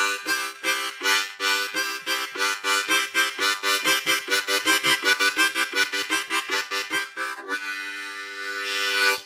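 Blues harmonica plays a steady chord rhythm, alternating G draw and C blow chords in a repeating chugging pattern of quick breathy pulses, loud and close, ending on a sustained held chord.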